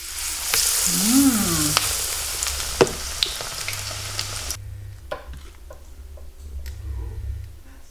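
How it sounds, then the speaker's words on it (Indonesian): Oil sizzles steadily around frying battered tempeh (mendoan), with occasional light clicks and taps of a utensil against the pan, close and continuous. "Kita goreng."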